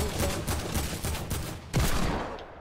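Burst SMG gunfire from a video game sounds as rapid repeated bursts over a dense, busy game mix, with a louder crack of shots near the end.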